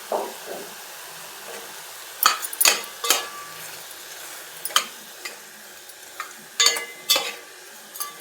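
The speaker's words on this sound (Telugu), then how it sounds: "టమాటోలు ఉల్లిపాయలు వేసిన తర్వాత రాళ్ళుప్పు పసుపు వేసి ఒక 5 నిమిషాలు వేగనివ్వాలి" Tomatoes and onions frying in a pan with rock salt and turmeric, a soft sizzle broken by repeated sharp clinks and scrapes of a spoon stirring against the pan.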